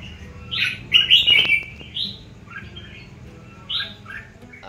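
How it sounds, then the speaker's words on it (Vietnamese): A songbird being tested on a perch gives bright, clear chirps and short calls in scattered bursts, close and fairly loud over a quiet background. "đưa lại cái tiếng ché và cái hình ảnh của con chim mà cụt móng"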